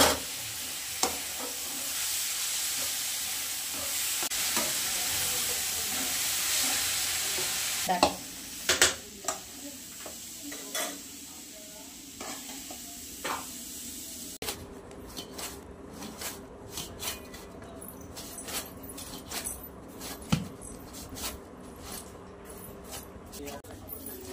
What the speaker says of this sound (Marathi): ना खसखस टाकून घेऊयात आपण भाजून घ्यायची